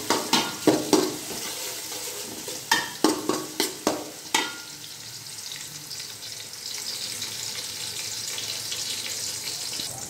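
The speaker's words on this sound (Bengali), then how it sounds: "পেঁয়াজটাকে একটু ভাজা ভাজা করে নেব" Onions frying in oil in a large pot for pulao, a run of sharp stirring scrapes and clatters over the first few seconds, then a steady close sizzle continuing alone.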